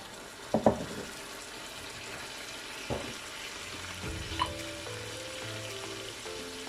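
Ginger and garlic added to onions already softened for five minutes in a pan for curried chicken sizzle softly and steadily, with a few utensil clinks and no talking.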